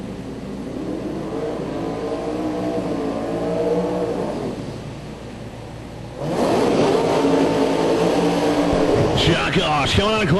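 A 526-cubic-inch Camaro drag racer from Clarksville, Maryland revs and roars at a drag strip, the loud engine rising sharply past the midpoint and holding strong, with a commentator talking over it throughout.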